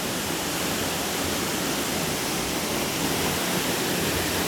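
A river flows through a spot littered with dumped tires and garbage, giving a steady, dense rush of water that stays even and unbroken throughout, with no voices.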